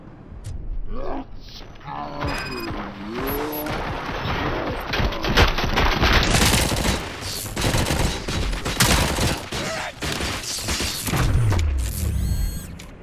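Dense automatic gunfire and mechanical clanks from the video game RoboCop: Rogue City, loud and continuous, with bursts, whirring machinery and shouted voices mixed through the firefight.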